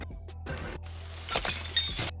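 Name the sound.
glass shattering sound effect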